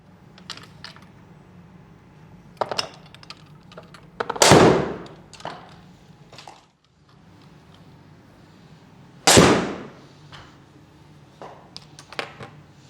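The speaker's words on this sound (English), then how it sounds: "we're just going to hit 2 shots" During a golf club fitting, an iron strikes golf balls twice, each hit a sharp, loud crack several seconds apart. Light clicks and shuffling fill the quiet between the shots.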